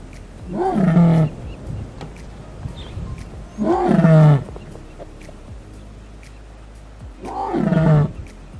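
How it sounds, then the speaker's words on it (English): Male lions roar in the wild, three long deep bellowing calls spaced a few seconds apart, loud and close, with quiet bush ambience in between. "We've watched and heard males roaring."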